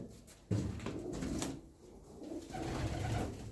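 A female Turkish tumbler pigeon with ringed legs gives low, soft cooing calls up close, a few rolling phrases over faint room noise and light handling sounds.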